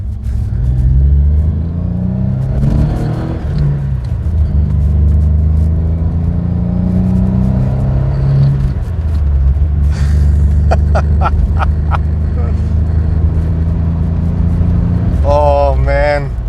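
A Ford Cortina XR6 pulling away, its engine rumbling and rising in pitch through first gear, then easing and climbing again in second, close and loud inside the car, with someone talking at times over the engine.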